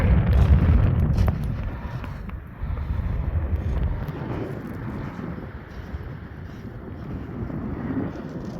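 Strong wind buffets the microphone at an exposed coastal lookout in Dorset, heavy low rumbling gusts at first that ease into a steadier, softer rushing.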